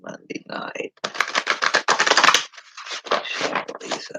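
Tarot cards being shuffled close by: rapid papery riffles and crisp flicking bursts in quick, uneven runs, fairly loud with brief pauses between.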